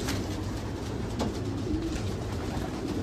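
Soft, low cooing of homing pigeons murmurs through a steady background hum, with a few faint rustles; no talking.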